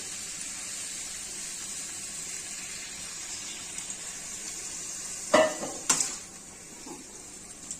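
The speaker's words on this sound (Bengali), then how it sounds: "ঢেকে দেব সামান্য একটু জল দিয়ে দিচ্ছি" Water is splashed into a pan of pumpkin and Malabar spinach greens cooking in oil, giving a steady sizzle with a couple of sharp pours and clatters near the end, close and fairly quiet.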